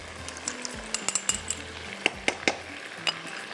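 Yogurt is stirred into chicken and spices frying in a pan: a soft sizzle runs underneath while a utensil clinks and scrapes against the pan in quick irregular taps.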